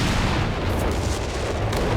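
Artillery shells pound the battlefield in Company of Heroes 3, a continuous loud, rumbling barrage of booms with no pause and no voices.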